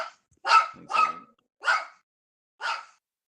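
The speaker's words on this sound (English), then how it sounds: "My dog went a little crazy." A dog barks four times in sharp, loud bursts, two quick barks close together and then two more spaced out, nearby and with no talk over them.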